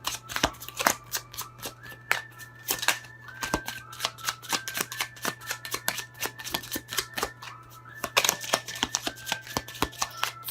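Pure Love Oracle tarot deck being shuffled by hand, a close, quiet run of rapid papery riffles and card snaps repeating steadily throughout.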